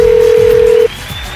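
A steady telephone tone sounds loudly over a radio studio line and cuts off abruptly, leaving a low murmur while the call to Marj is being placed.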